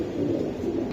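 A Giribaz pigeon of an old breed line, kept in a loft, gives a brief, low, close-up coo that stays steady for about a second.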